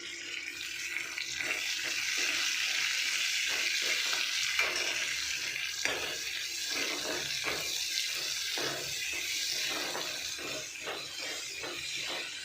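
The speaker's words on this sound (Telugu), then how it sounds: "చూడండి ఆనియన్స్ బాగా రోస్ట్ అయినాయి కదా" Sliced onions fry in a hot pan with a steady, dense sizzle and repeated scraping stir strokes throughout, close and fairly loud with no talking.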